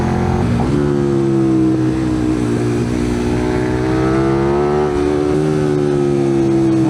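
A Kawasaki motorcycle engine revs loud and close as the bike accelerates, its steady rising drone climbing through the gears with one brief dip midway, no voices over it.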